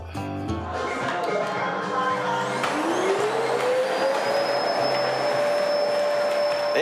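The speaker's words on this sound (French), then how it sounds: "Faut qu'elle me fasse son aspirateur." A vacuum cleaner runs loudly and close by, its motor spinning up with a rising whine into a steady high-pitched roar that continues throughout.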